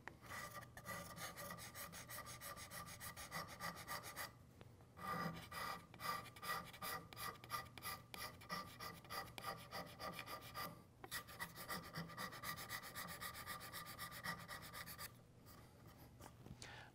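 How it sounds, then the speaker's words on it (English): A steel card scraper rasps across a wooden surface in repeated strokes with brief pauses between passes, a dry, close scratching that goes on alone at a fairly quiet level. "I'll put just a very slight flex into the scraper"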